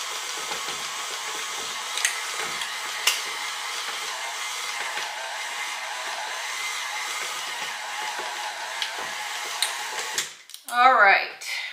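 Electric hand mixer beaters stirring soft sugar cookie dough: a steady, close motor whir runs throughout at even loudness, then cuts off near the end with a clatter and a brief louder burst.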